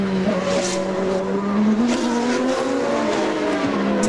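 IndyCar race cars sweep into a turn at full speed, engines whining loud and steady with shifting pitch as several cars pass, tires faintly squealing through the corner.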